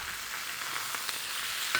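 Turmeric and dill fish fillets dusted in cornflour fry in a hot pan, giving a steady close crackling sizzle with small pops and a brief louder spit near the end, with no talking.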